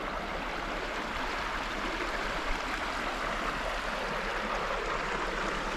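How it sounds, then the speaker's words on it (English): A small creek flows through a redwood forest in the Otways, making a steady, even rush and babble of water close by that continues throughout without talking. "Nice little creek flowing through here."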